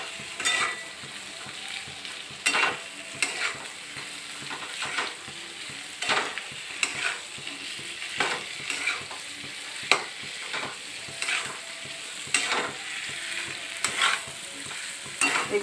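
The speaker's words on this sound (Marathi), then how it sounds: "थोडासा खरपूस होईपर्यंत हलवून घ्यायचा" Potato cubes seasoned with black salt stirred and frying in a pan for sabudana khichdi, with a soft continuous sizzle broken by repeated scraping strokes of a spatula at a steady, unhurried rhythm, close by with no talking.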